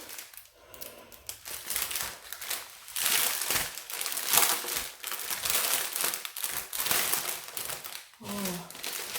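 Crinkling plastic bags of diamond painting beads being unwrapped by hand, with steady rustling and crumpling up close and a few brief quiet pauses.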